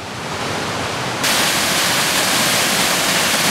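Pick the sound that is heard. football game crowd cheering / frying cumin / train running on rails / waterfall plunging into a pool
waterfall plunging into a pool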